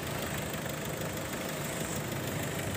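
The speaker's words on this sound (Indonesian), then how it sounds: "untuk kondisi mesin masih suaranya mulus ya. Dieselnya masih jreng-jreng." A 2004 Mitsubishi Kuda Grandia diesel engine runs at a smooth, steady idle with a close, continuous clatter and no talking.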